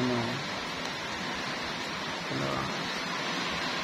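Steady rain falls all day under dark skies in Cavite, a dense, constant hiss filling the clip, with a voice speaking faintly over it.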